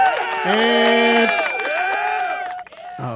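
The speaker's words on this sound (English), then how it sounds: "Oh, there's that crowd." A crowd cheering sound effect plays during a podcast: a loud, brief burst of whooping, tonal crowd voices that rise and fall over about three seconds.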